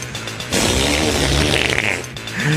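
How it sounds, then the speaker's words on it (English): A long, loud, buzzy cow flatulence sound effect blares for more than a second, with a shorter rasp starting again at the end. "This is the sound of a cow threatening the world."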